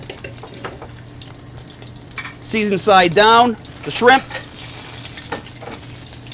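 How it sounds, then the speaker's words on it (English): Shrimp and scallops hit a hot, high-heat saute pan with a steady crackling sizzle that swells as they are added, while a person talks over the frying close by. "you really want to hear that sizzle sound every time you're adding something to a pan"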